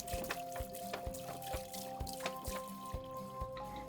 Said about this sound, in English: we're gonna start with by adding our half a gallon of milk